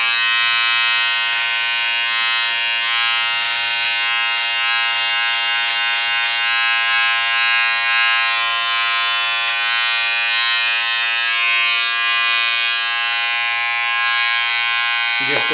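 Electric clippers buzz steadily and close up while trimming and lining up a beard's neckline, a continuous high whine running the whole time with slight shifts in pitch as the blades move.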